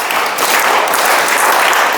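Loud, dense applause from children and an adult audience at a school ceremony where children honour their parents, a steady roar of many hands clapping without a break.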